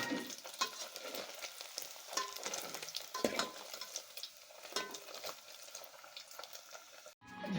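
Paneer frying in a pan, a steady close sizzle and crackle of hot oil with small pops throughout, no talking over it.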